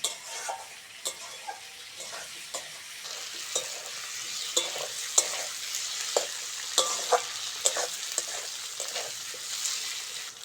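Tomato frying in a pan with onion and green chili for a potato and green-tomato vegetable curry, giving a steady close sizzle broken by regular sharp clinks and scrapes of a spoon stirring against the pan.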